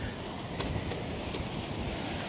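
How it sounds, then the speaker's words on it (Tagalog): Strong ocean waves pound continuously in a roar of surf and wind noise, with a few sharper splashing bursts rising out of the steady wash. "Malakas lang talaga yung ano, yung alon."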